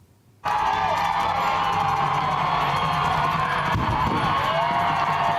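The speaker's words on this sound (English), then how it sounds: "Cheering from protesters as the controversial Sir John A. Macdonald statue fell in Gore Park" A crowd of protesters cheers and whoops loudly as the controversial Sir John A. Macdonald statue topples in Gore Park, a sustained roar of many voices breaking in suddenly and holding steady.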